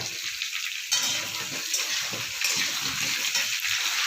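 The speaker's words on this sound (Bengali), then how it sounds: "এবার আলুটা ঢেলে দেব।" Potatoes are tipped into a pan of frying pointed gourd, onion and chilli, and a loud, close sizzle flares at once and carries on with stirring, swelling again partway through.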